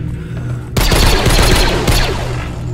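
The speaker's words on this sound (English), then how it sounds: "this gun feels good to shoot" Rapid gunfire from a blaster in Star Wars survival horror game Deathtroopers: The Outpost, a loud, close, continuous burst of shots that breaks in abruptly over a low ambient hum and runs nearly two seconds.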